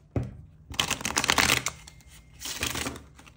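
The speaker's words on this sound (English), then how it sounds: "Y'all get a fun shuffle today." A tarot deck being shuffled by hand, two close bursts of riffling, flapping card noise separated by a short pause, with no talk.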